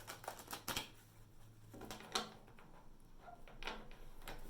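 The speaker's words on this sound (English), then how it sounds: "while I shuffle and pull out the cards" Tarot cards being shuffled and drawn, with a few soft papery snaps and slides spaced apart in a quiet room.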